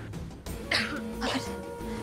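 A woman coughs in a Hindi television drama scene: a couple of short, close coughs with throat clearing over a low background, and no one speaking.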